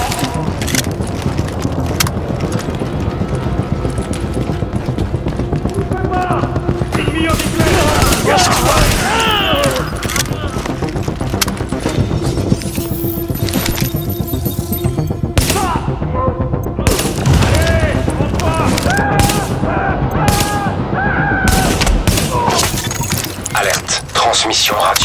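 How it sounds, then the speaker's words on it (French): Sustained gunfire in the video game Tom Clancy's The Division: dense, loud bursts of shots and booms layered with continuous battle noise, voices and score, unbroken for about 25 seconds. "On a entendu des coups de feu qui venaient de la station du dessus"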